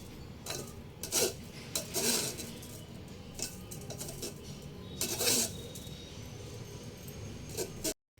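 Flattened rice stirred with salt and sugar using a spoon, a series of close scraping, rubbing strokes of metal against a bowl in uneven bursts, some louder than others, before a sudden cutoff.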